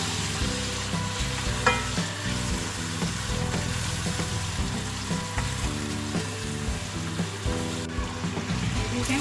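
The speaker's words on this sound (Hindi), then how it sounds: "और टमाटर डाल के भून लेना है।" Tomatoes, coriander and peas frying in a spiced masala for a cabbage and pea curry, a dense, continuous sizzle close by with occasional stirring scrapes.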